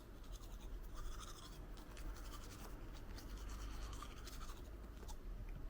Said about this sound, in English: Just a very basic Care Guard toothbrush.